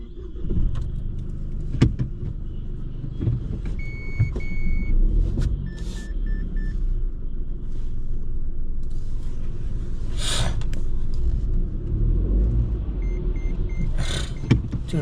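A new Mahindra car drives out toward the Outer Ring Road, its engine and road noise a steady low rumble heard from inside the cabin, with a few short electronic chimes over it.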